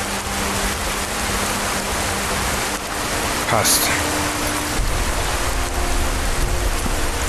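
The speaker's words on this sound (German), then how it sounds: "Aber der Regen geht mir ein bisschen auf den Sack." Steady rain hisses throughout in Skyrim VR, broadband and constant, with a brief spoken word near the middle over the downpour.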